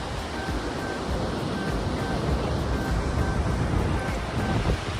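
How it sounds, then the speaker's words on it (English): A large waterfall roars as a dense, constant wash of rushing water heard from across a viewpoint, steady and loud with wind buffeting the microphone and no voices. "there is a waterfall."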